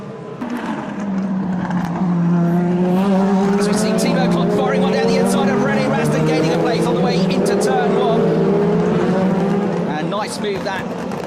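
Timo Glock's BMW DTM race car slides under opposite lock after hitting a kerb, its engine note rising and falling loudly for several seconds with tyre squeal layered over it, while a commentator talks throughout.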